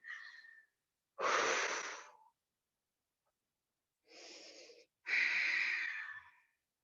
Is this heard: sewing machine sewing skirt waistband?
no